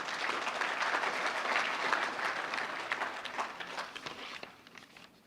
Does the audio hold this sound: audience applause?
yes